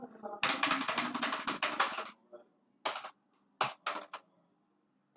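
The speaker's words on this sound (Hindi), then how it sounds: "सपोज मैं आपके सामने एक नंबर टाइप करता हूं" Number keys tapped on a keyboard in a quiet room: a quick run of steady clicks for about two seconds, then a few short separate bursts of keystrokes with pauses between.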